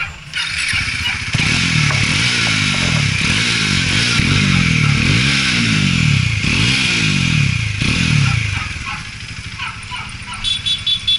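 A Bajaj Dominar 400 motorcycle fitted with an SC Project exhaust runs loud and close, its deep bassy engine note rising and falling through a series of revs, with clattering and scraping noises over it.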